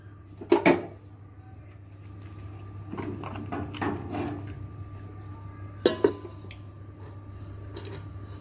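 Rice is spooned into a pot while layering chicken biryani, with a few sharp clatters of a spoon against the pot, then softer scraping and shuffling of grains, over a steady low hum.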